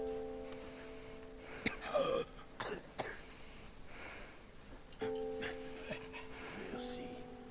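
A dog in the video game Valiant Hearts: The Great War whimpers and gives short yips and barks in a few bursts, set against a droning game soundtrack.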